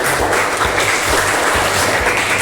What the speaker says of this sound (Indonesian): maka kita beri tepuk tangan untuk kita semua ya